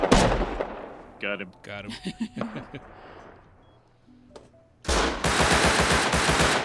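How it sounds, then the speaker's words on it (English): Bursts of gunfire from primitive weapons in the survival game Rust crackle in rapid volleys, with a short voice exclaiming over the early shots, then a sustained loud stretch of fire near the end. "Suppressing fire."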